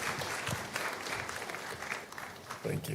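Applause rises from the audience at the launch of Ghana's National AI Strategy as an honoree makes a long walk, a steady wash of clapping throughout, distant and fairly faint, with a few louder claps standing out.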